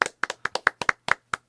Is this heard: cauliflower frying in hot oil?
no